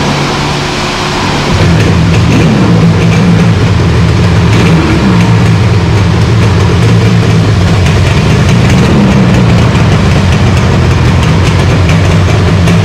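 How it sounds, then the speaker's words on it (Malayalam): A 1983 Yamaha RD350 two-stroke motorcycle idles through a tin exhaust, a loud, steady, close rumble with a low burbling throb that wavers slightly in pitch throughout. "ഈ ഒരു ടിൻ എക്സോസ്റ്റിൽ നിന്ന് വരുന്ന ഒരു ശബ്ദം"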